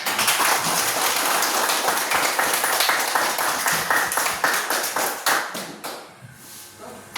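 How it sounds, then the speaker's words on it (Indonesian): A fourth-grade class of children claps hands in a dense, sustained burst of applause that thins into scattered claps toward the end. "Ayo tepuk tangan, ayo."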